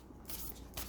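Large oracle cards shuffled by hand, two quick papery riffling bursts close up, faint and alone in a quiet room.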